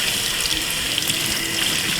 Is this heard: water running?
yes